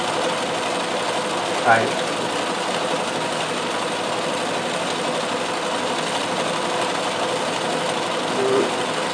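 A Riccar 570 stretch-stitch sewing machine with cams runs steadily with a quiet, even mechanical hum while a person talks over it.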